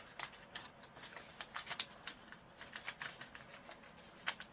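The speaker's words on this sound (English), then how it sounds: "then I'm going to fold it in" Paper seed packet being folded for a craft project: faint, close crinkling and soft creasing rustles in irregular quick bursts, with no voices.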